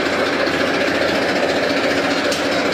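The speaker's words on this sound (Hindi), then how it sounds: "स्टार्टिंग तो देखें दोस्तों बेहतरीन शानदार आवाज़ ये ट्रैक्टर" Massey Ferguson 1035 DI tractor with a 2400 cc engine running in a farm village in Uttar Pradesh, a loud, steady, dense diesel rumble with a rapid mechanical chatter, heard close and continuous.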